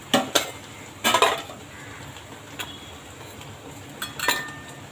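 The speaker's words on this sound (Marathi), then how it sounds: "आपला मसाला परततोय" Masala sautéed and stirred in a pan for Maharashtrian katachi aamti, with sharp clinks of a spoon against the pan in a few short bursts over a faint background hiss.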